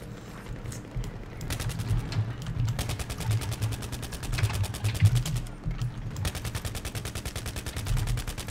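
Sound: gunfire in Battlefield 3 video game

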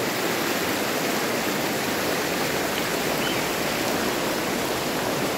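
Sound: strong river current flowing

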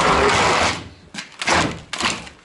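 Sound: old garage door being opened

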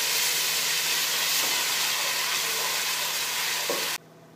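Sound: frying garlic ginger paste with onions

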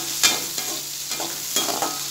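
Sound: onion and garlic sautéing in a pan until golden brown

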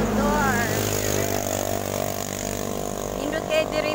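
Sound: motorcycle riding

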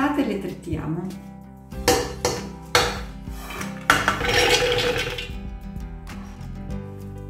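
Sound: chopping toasted almonds

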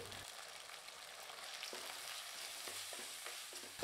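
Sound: sautéing spices in a pan

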